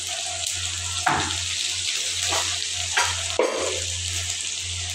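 Spices stir-fried for a dried fish bhuna hiss steadily in a frying pan, with several louder scraping strokes of a spoon against the pan breaking through the constant sizzle; no voices.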